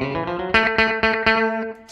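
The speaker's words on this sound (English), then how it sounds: "I hit the old echo preset over there in the fourth slot on the M13" Electric guitar picks a country phrase through a Line 6 M13 echo preset, with several bright plucked notes in an even rhythm and echo trailing after each.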